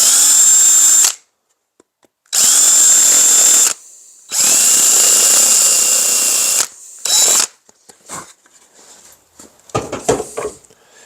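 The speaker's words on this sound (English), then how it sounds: "I said I had to drill the plastic out" A power drill boring out a plastic opening while installing a blue flame gas heater, heard as three loud sustained whirring bursts with pauses, then a short burst and faint clatter and handling sounds.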